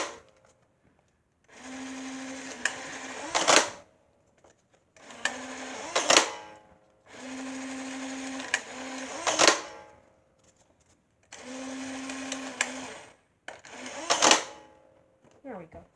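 A Nerf blaster being reloaded, heard as four separate bursts of close mechanical clatter and ratcheting, each with a low whirring hum, separated by short pauses.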